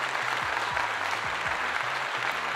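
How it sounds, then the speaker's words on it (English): An audience gives a round of applause, a continuous crowd clapping layered over a thumping rhythmic bass beat that repeats throughout. "Round of applause for that"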